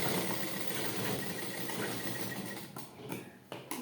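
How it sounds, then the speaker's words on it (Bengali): A sewing machine runs a long straight seam on a blouse, a steady whirring drone of fast stitching that slows and stops near the end with a few brief clicks. "এইভাবে লম্বা একটা সেলাই করে নিতে হবে।"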